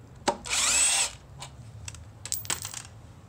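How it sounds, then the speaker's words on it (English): An impact wrench removes the front brake caliper bolts on a 2004 Honda CBR600RR, giving one steady, loud burst of roughly half a second, preceded by a sharp clack and followed by scattered metallic clinks and taps. "I'm going to cheat a little bit here with my impact just to speed up the process"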